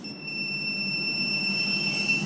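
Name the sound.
long beep from anti-itch pen device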